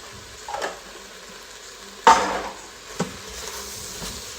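Garlic hits hot oil in an Instant Pot while pot roast is being made, a sudden sharp sizzle burst followed by softer frying and a brief clink, no voices.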